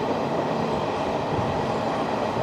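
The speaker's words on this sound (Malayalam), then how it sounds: "അതായിരുന്നു എറണാകുളം KSR ബംഗളൂരു വന്ദേ ഭാരത് എക്സ്പ്രസ്." Ernakulam–KSR Bengaluru Vande Bharat Express rushing past on an Indian railway line, a loud, steady roar of rolling wheels and rail rumble filling the whole stretch without a break.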